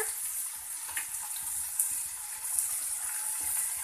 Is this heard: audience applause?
no